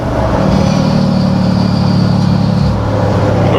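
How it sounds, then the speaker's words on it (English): A diesel truck with its exhaust brake engaged drones loudly and steadily at low pitch with a deep rumbling exhaust, holding constant before easing slightly near the end. "when I drove the truck completely stock and the exhaust brake kicks on, you hear it under the hood"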